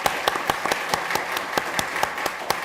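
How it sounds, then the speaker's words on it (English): An audience at a summit on the Korea-US Free Trade Agreement applauds in a dense, steady wash of clapping, with sharper individual claps standing out throughout. "A round of applause, please."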